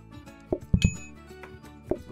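Dishes clinking as they are stacked into a dishwasher in a restaurant video game, a few sharp, separate clinks and knocks, close and moderately loud, with quiet background music between them.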